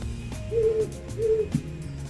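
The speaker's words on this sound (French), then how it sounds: "Parfois, ce sont des chouettes qui se font la cour, perchées sur un arbre." Owls perched in a tree hoot during courtship along the Pacific Crest Trail, two drawn-out hoots about half a second apart, moderately close and clear against a quiet background.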